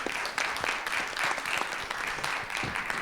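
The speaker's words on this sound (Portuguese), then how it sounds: "Uma salva de palmas para elas." Warm applause from a panel audience at a funding event, a steady patter of many hands clapping, moderately loud and lasting throughout.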